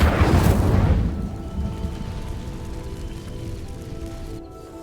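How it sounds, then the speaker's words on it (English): An Incendio fire spell in Hogwarts Legacy ignites dry vines: one loud burst of flame flares up at the start, then fades into a low, steady crackling rumble, with no talk. "These dry vines are one spark away from becoming kindling. Incendio!"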